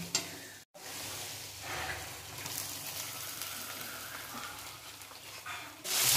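Fried rice being stir-fried with prepared vegetables in a pan as plain cooked rice is mixed in: a steady, close sizzle with scraping and stirring throughout, and no talking.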